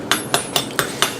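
Five sharp, evenly spaced taps on the crispy outer skin of a well-done roast pork shoulder (pernil), hard, crackly knocks heard close and alone.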